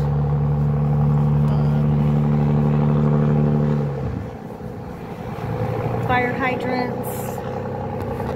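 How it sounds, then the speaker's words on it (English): Road traffic passes a multifamily property in Dallas, a loud vehicle engine rumble that fades midway before other traffic noise returns, with some clatter and a voice heard faintly. "here we go with our traffic"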